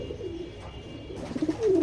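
A domestic pigeon, part of a flock kept where paratyphoid is a concern, gives soft low cooing close by. Rolling coos swell toward the end over faint background noise.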